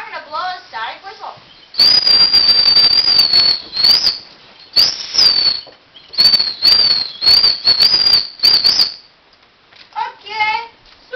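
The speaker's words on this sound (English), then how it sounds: "I'm gonna blow a sonic whistle." A shrill sonic whistle in a comedic puppet show, sounded in several long piercing high-pitched blasts with short gaps between them, loud and close, with brief voice sounds before and after.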